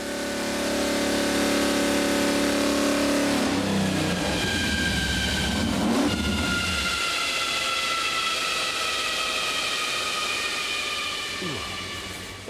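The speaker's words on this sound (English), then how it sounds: "The engine's running smoothly and the car is producing more power than the scale can read." A Lola T142 race car engine runs on a dyno, a loud sustained roar that climbs in pitch as it revs up, then holds a high, steady snarl before easing off near the end.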